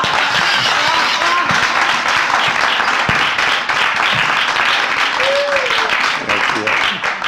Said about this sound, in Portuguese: Se vocês quiserem aplaudir, pode aplaudir